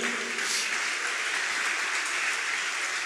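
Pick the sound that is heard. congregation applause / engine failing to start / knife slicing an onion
congregation applause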